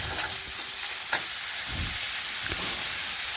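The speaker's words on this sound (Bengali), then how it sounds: "মশলা আমি ভালোভাবে কষে নিচ্ছি" Spices for chana dal sizzle and crackle in a pan, a steady close hiss broken by a few sharp spatula taps and scrapes, with no voices.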